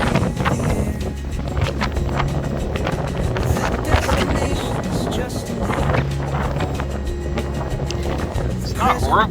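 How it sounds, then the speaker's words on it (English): Steady breezy wind of about 15 mph on a sailboat buffets the microphone with a constant low rumble, with soft rustling and occasional knocks underneath. "It's not horribly windy, just breezy."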